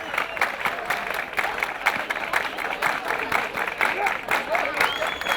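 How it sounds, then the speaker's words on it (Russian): A crowd gives sustained, dense applause at an indoor award ceremony for young winners of an interregional professional skills championship. The clapping stays steady throughout while a voice talks over it. "Под нескончаемые овации и море аплодисментов юных мастеров своего дела награждают почетными грамотами и подарками."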